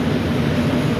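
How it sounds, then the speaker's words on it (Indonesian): The Blambangan Express train arrives at Jember station, heard as a loud, close, continuous low rumble of rolling carriages during a short, steady moment. "perjalanan kereta api Belambangan Express saat ini telah tiba di stasiun Jember."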